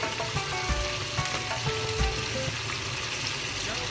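Onions and green coriander stems sizzle steadily with mutton in a pan, a dense continuous frying hiss with occasional soft clinks and stirring knocks, close and alone.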